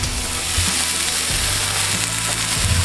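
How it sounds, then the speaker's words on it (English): Steaks sear on a grill with a steady, loud sizzle and frying crackle that fills the whole moment, close by and with no talking. "I could sear them a little bit longer"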